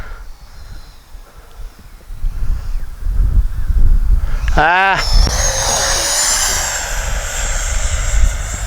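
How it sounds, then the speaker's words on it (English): A Freewing F-16 70mm RC jet with its landing gear down roars in close and loud, its whine sweeping sharply downward in pitch as it passes directly overhead, then fading into a steady rushing hiss. "Just left my gear down, pointing the plane right at me."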